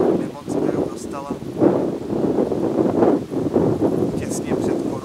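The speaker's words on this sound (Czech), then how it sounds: "on teď fouká docela ostrý vítr" Sharp gusts of wind blow steadily across the microphone outdoors, a continuous rushing roar with rustling, while someone talks over it.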